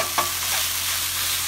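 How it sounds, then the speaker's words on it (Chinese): Ground meat sizzles and is stirred in a hot wok for mapo tofu, a dense continuous frying hiss with a quick scrape of the spatula near the start. "然后我会把它炒香之后"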